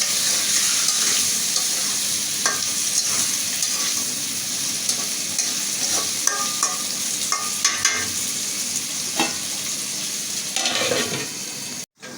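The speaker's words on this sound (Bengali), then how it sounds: "একটু সুন্দর করে কষিয়ে নিছি আলুটা" Potatoes fry in spices in a pan for a dish with small prawns and taro stolons, a loud constant sizzle with scattered scraping stirs and light metal clinks before it cuts off abruptly.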